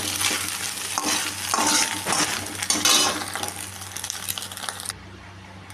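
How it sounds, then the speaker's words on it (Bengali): A metal spatula scrapes and clinks against a pan in repeated strokes, scooping out scrambled egg over a soft sizzle, close and steady, then the sizzle fades. "আমার ডিমটা ঝুড়ো করা হয়ে গেছে, এখন আমি এটাকে নামিয়ে নেব"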